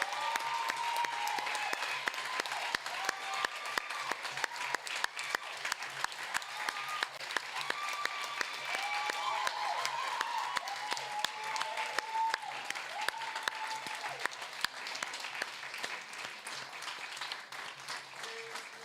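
Audience applause fills an award presentation at a debating competition, steady dense clapping sustained throughout with a few voices and cheers mixed in.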